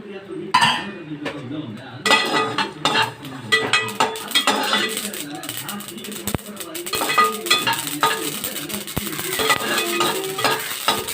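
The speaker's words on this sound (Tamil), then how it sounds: "அதுதான் எள்ளு பொறிஞ்சிச்சு" Sesame seeds crackle and sizzle in hot oil in a pan while a spoon stirs and scrapes against the metal, with clinks of cookware, close and continuous throughout.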